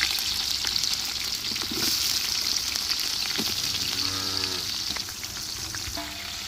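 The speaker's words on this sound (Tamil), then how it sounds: "வெங்காயத்தை வதங்க விடணும்" Onions frying with curry leaves in a big pan for a large batch of dry chilli pepper chicken, a dense continuous sizzle with occasional stirring scrapes, close and loud, no voices.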